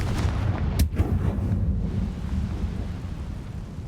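A Confringo fire-blasting spell explodes in the video game Hogwarts Legacy, giving a deep booming blast with a sharp crack near the start that rumbles away into a low roar.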